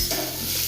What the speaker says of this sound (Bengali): আদাটা ভাজা হোক,